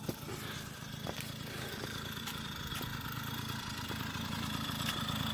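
A child's dirt bike engine runs at a steady, buzzing idle nearby, with a few sharp clicks and knocks over the continuous drone.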